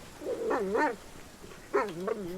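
A dog in the fantasy role-playing game Pathfinder: Kingmaker gives two drawn-out whining barks, moderately loud and close, separated by a short pause.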